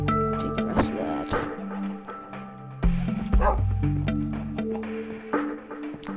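Dogs barking and yipping in the video game Minecraft, several short sharp yaps and whimpers scattered across the clip, mixed with steady in-game tones and clicks.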